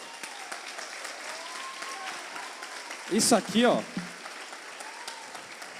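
A short burst of audience applause with some voices at a talk event, lasting about a second after a stretch of quiet room noise, while a voice speaks nearby.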